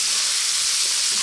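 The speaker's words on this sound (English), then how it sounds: "Just stir fry these a little bit." Vegetables stir-fry in a pan over medium heat for a pasta sauce, a loud, bright, continuous sizzle close by with faint scraping underneath, heard alone for a brief moment.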